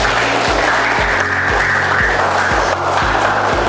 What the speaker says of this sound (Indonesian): tepuk tangan, bagus ya